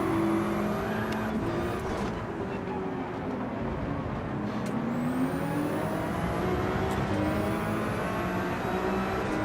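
A race car accelerates during a Gran Turismo 7 online race, its engine droning steadily and rising in pitch through gear changes, with other cars close by and a voice faintly underneath.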